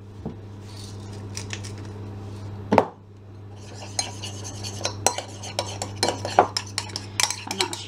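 A utensil stirs a meatloaf glaze with seasoning in a bowl, bright clinks and scrapes against the dish coming in quick irregular bursts, close and clear over a steady low hum.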